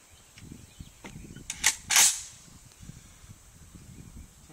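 A PSL Russian sniper rifle fires while being sighted in outdoors, giving one sharp, loud gunshot with a brief echoing tail after a smaller click just before, then quiet background.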